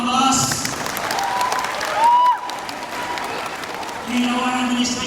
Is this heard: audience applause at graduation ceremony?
yes